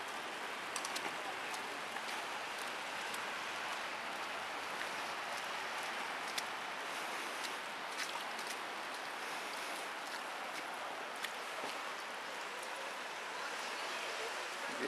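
Steady rain hisses evenly during an outdoor walk near Seoul Station, a continuous wash of falling water with faint scattered drips, heard alone and at moderate distance.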